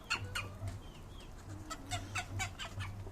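Chickens cluck on a farm in a steady stream of short, close calls, repeated irregularly over a low background hum.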